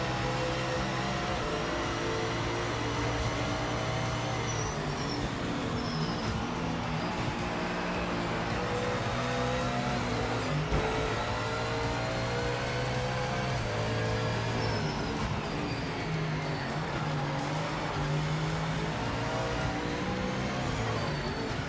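Race car engine in the Project Motor Racing video game, droning continuously at high revs with repeated rising and falling pitch sweeps as gears change, steady and loud throughout.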